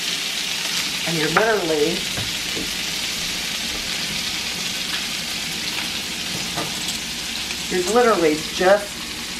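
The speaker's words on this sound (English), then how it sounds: "You're literally just going to saute this." Red pepper flakes sautéing in garlic butter in a pan give a steady close sizzle and frying hiss, while someone talks over it in two short bursts.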